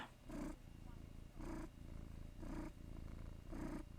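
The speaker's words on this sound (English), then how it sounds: "Oh, Dusty's a loud purr" Pet cat purring loudly and close, a deep rumbling purr broken into four regular swells about a second apart, each rising with its breath.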